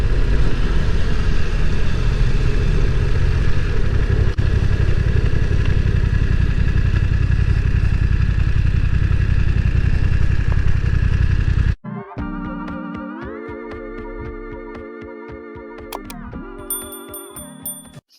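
A BMW F900R motorcycle being ridden, with a loud, steady engine roar mixed with rushing wind for about twelve seconds. It then cuts abruptly to music.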